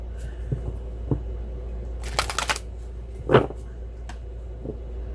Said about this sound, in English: So I'm going to shuffle these again and see if anything pops out for your romance.